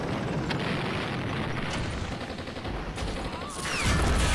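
Panzerfaust blast striking a Jagdpanther tank destroyer during a World War II tank battle in the Men of War strategy game, a dense burst of explosive rumble and gunfire with a louder heavy boom swelling at the end.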